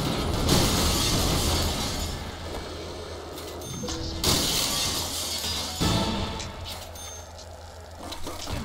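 Wooden barrel smashed in the Tony Hawk's Pro Skater 2 video game on PC, a loud crunching shatter amid continuous game music and skating noise, with a second crash later.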